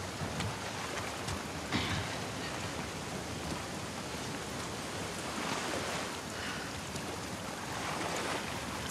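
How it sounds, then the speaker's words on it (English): Steady rain in the video game The Last of Us Part II hisses and patters evenly throughout, a dense wash of noise with no voices. "Let's get out of the rain."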